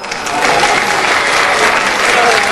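A game show studio audience claps and cheers at a Christmas episode of Card Sharks, with steady, dense applause that builds and holds throughout.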